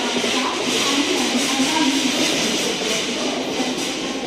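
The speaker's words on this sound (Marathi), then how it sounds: "ट्रेन एकदम टायमावरती आली" A passenger train pulling into a station, heard as a loud, steady rumbling roar of wheels and carriages that holds evenly throughout.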